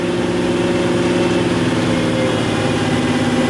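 A Buick Grand National engine settles back to a steady idle, a continuous close rumble with an even low throb and no voices over it.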